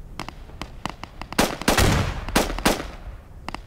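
Close, loud rifle and machine-gun fire from the military shooter Squad comes in sharp single shots and short rapid bursts, with a denser volley in the middle.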